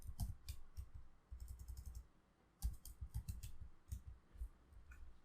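Quiet clicking keystrokes on a computer keyboard as a command is entered at a command line, in two short bursts separated by a pause, with no voices.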